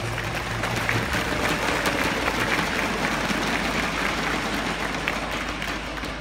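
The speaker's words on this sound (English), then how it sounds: "give yourselves all a round of applause" An audience at a financial technology industry event applauds, a steady dense wash of clapping that holds at an even level throughout without letting up.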